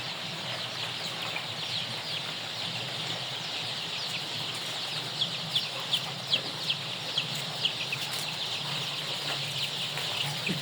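Chicks fill a poultry house with a steady, distant chorus of peeping and chirping, and a few louder cheeps stand out midway.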